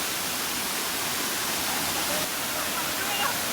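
The Thirikakkayam waterfall at Vilangad rushes in a steady, loud, unbroken roar of falling water, with faint voices barely showing beneath it.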